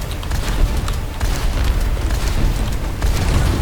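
Rocket launcher fire and explosions in the Overwatch game come as a dense, continuous rumble of booms and blasts, loud and close with no break.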